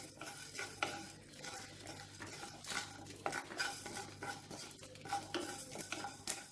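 Fenugreek and nigella seeds going into hot oil for a chutney, heard as soft crackling and sizzling with close stirring scrapes and utensil clinks against the pan.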